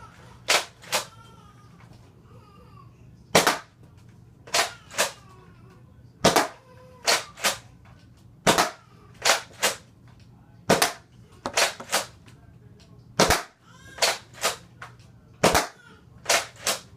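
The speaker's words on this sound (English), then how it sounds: "I will be firing a few more rounds for you guys." A modified Nerf Recon and Retaliator blaster with a reinforced plunger stopper fires repeated sharp snapping shots, singly and in quick pairs, close and loud, with quiet handling noise between them.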